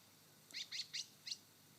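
A lyrebird in a Victorian forest gives its own call, four quick, bright chirping notes in a short burst, fairly faint against a quiet background.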